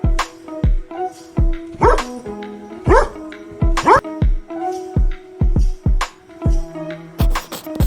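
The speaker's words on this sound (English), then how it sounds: "D for dog." A dog gives three sharp yips or barks spaced about a second apart, mixed in with steady rhythmic thumps and musical tones.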